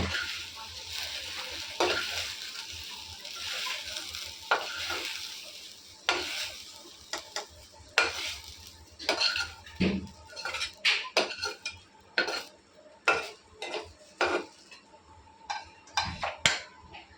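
Fried okra is scooped from a sizzling pan, with a steady frying hiss under repeated sharp scrapes and clinks of a metal spoon against the pan, coming in quick irregular bursts close by, with no one talking.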